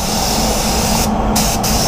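A Black Mamba Supernova LS-400 1.3 HVLP spray gun laying clear coat on a Ford Focus inside a workshop spray booth, a loud continuous airy hiss with two brief dips where the trigger eases off.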